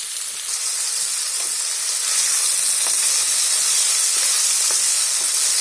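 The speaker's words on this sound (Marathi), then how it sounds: "चांगला कांदा खरपूस भाजून घ्यायचा." Onions frying on a high flame for Hyderabadi chicken biryani, a loud, close, continuous hiss and sizzle with faint scattered pops and no talking.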